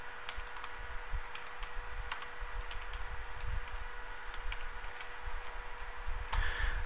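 Computer keyboard typed on at a steady pace while entering a title into cell A1 of an Excel spreadsheet, light clicking keystrokes over a constant background hum, no talking.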